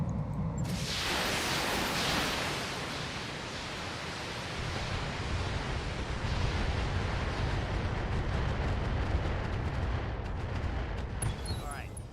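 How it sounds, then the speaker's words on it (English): An ammunition explosion rips through a mech in the BattleTech video game, a loud broadband roaring blast that swells early and then sustains a dense crackling rumble for several seconds. "That's a explosion on the Maxim."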